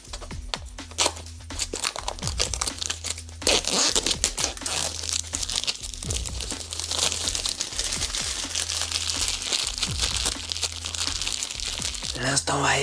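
Packaging for a DJI Pocket 2 Creator Combo is torn, crinkled and crunched open in close-up, with steady plastic and cardboard rustling and sharp tearing bursts filling the whole stretch.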